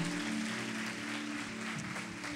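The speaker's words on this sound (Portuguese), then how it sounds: "Se você pode, aplauda o Senhor." A church congregation claps in praise, a dense steady patter of many hands with a sustained musical tone humming underneath throughout.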